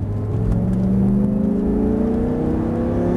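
A car accelerates on a race track during a driving lesson, its engine droning steadily and climbing in pitch as the throttle is held open, close and continuous.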